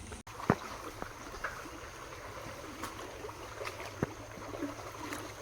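A stream flows steadily outdoors after rain, a continuous close wash of water with occasional small knocks and splashes and no talk.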